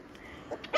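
A Mini Bernedoodle puppy lets out a couple of short, high yips close by, the last one loudest, against a quiet background.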